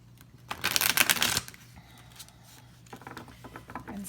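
Tarot cards riffle-shuffled in a quick, papery burst of dense flutter, then quieter scattered shuffling and soft card handling, close and with no talking.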